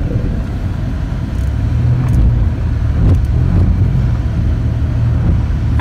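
A van driving across a frozen lake on ice with little grip, its engine rumbling loud and close in a steady low drone with faint scraping and knocks over the top.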